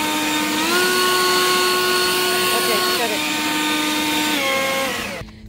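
WORX WG584 40V cordless turbine leaf blower running in turbo mode, a loud steady whine with high harmonics that steps up in pitch twice before cutting off near the end.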